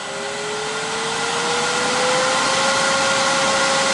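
Laguna wood lathe motor running up to 1000 RPM in reverse, a steady electric whine with a tone that rises slightly as it spins up, loud and alone.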